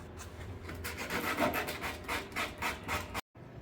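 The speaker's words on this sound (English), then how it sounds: "So I'm gonna use the 80 grit just on this little area here." Sandpaper of 80 grit rubs over a small area of a metal fuel tank from an 87 Chevy Squarebody, making close, rhythmic scratchy strokes that stop abruptly near the end.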